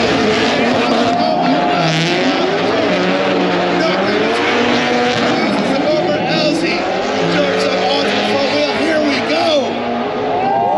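Drift cars race into the first corner at the LZ Invitational 2022 as heard from inside a Volvo police car, with loud, continuous engine roar and wailing tire squeal, and an excited voice talking over the noise throughout.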